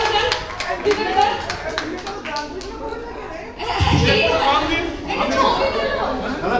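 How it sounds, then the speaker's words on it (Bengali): Clapping for a man named Bibek at a Barsha Mangal monsoon cultural gathering: a brief burst of sharp, separate claps at first, then looser scattered applause mixed with lively chatter and laughter from a small crowd close by. "বিবেকদার জন্য জোরে হাততালি"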